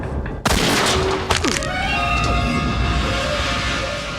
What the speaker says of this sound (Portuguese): E dá um tiro na porra do Mike, cara.